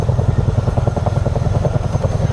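A video game helicopter with a steady, close rotor chop, its rhythmic pulsing beat heard alone without talk.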